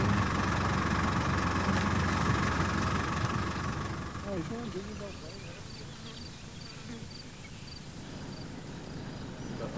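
A safari vehicle's engine idles close by with a steady rumble, then is switched off partway through, leaving quieter outdoor ambience with faint insects.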